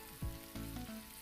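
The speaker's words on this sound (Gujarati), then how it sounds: "તમે જોઈ શકો છો ટામેટા એકદમ સરસ સંતળાઈ ગયા છે." Tomatoes sautéing in a pan while cooking a pea and potato curry, a soft steady sizzle with a couple of faint stirring scrapes, quiet and without speech.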